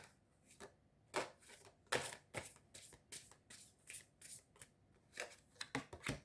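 Tarot cards being handled and drawn from the deck, a run of crisp, quiet papery flicks and slaps in quick, uneven bursts with no talking.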